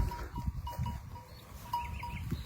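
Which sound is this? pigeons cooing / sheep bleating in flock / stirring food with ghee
sheep bleating in flock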